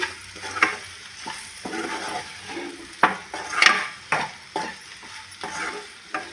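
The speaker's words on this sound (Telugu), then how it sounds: "ఇప్పుడు మంచిగా కలుపుకొని" A spoon stirs salt into an okra and yogurt gravy curry as it sizzles in a pan, giving repeated scraping strokes and soft knocks against the pan over a low bubbling fry.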